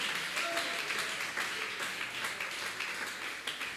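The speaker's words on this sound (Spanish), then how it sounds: "le den un aplauso fuerte a Jesucristo" A church congregation at an evangelistic campaign bursts into dense, sustained applause that holds steady throughout, a broad wash of clapping from many hands.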